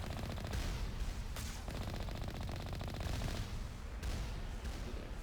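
Sustained gunfire from gunners in the Mass Effect video game, a dense, continuous rattle of shots with a few sharper bursts standing out, steady and loud throughout with no talking.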